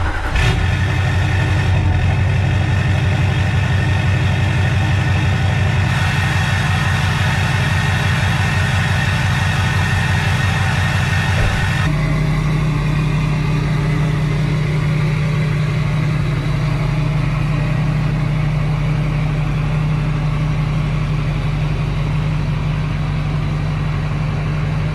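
A truck freshly raised up front, its suspension just worked on and awaiting an alignment, drives with a steady mid-pitched engine drone and road rumble throughout. A gear change or throttle shift comes about halfway, after which the drone continues evenly.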